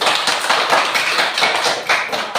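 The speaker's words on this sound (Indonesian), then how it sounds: "Tepuk tangan untuk kelompok 1." Classroom of students clapping hands for a group, quick uneven rhythmic claps close by, lively and continuous for a couple of seconds.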